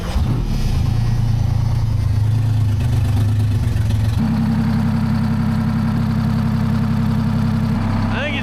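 A V12 two-stroke diesel in a 1975 Peterbilt heavy-haul truck runs with a loud, steady, throbbing drone that shifts pitch slightly partway through, sounding close and continuous with no talking over it.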